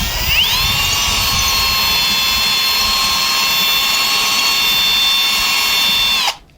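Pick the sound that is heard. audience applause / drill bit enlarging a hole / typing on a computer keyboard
drill bit enlarging a hole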